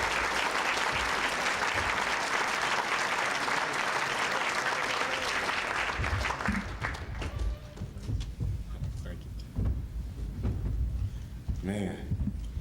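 A hall audience at the 2007 Kansas Sports Hall of Fame induction ceremony bursts into loud, sustained applause welcoming Maurice Greene, the clapping fading after several seconds into scattered thumps and room noise.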